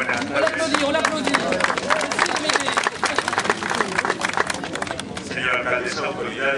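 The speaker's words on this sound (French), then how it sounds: "On l'applaudit." Audience at a town twinning ceremony applauding a writer as he is introduced, dense continuous clapping from a crowd nearby, with some talk mixed in.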